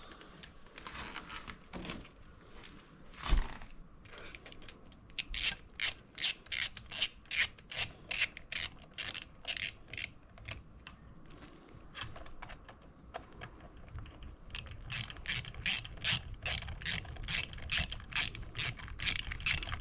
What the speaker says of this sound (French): Et maintenant on revisse.